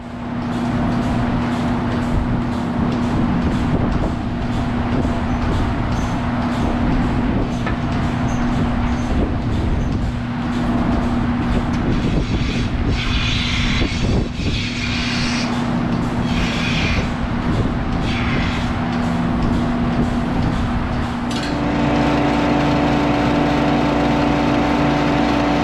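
A loud, steady tractor engine drone runs throughout with a constant low hum, shifting slightly in tone near the end.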